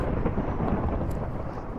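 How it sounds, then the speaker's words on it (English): Thunder from lightning in a video game, a loud continuous low rumble that holds steady throughout with no voice. "I need to turn my game sounds down because that lightning is getting annoying"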